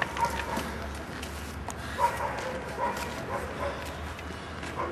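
A dog barks and yips in short irregular bursts during protection training, the calls mixed with handler voices and outdoor noise, fairly close and moderately loud.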